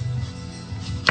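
A knife slices the end off a butternut squash, a single crisp chop landing on the cutting board near the end of a short, low-humming moment.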